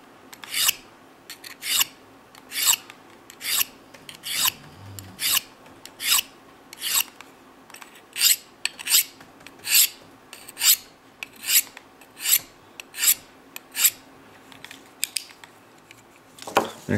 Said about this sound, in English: Let's try to sharpen that out again.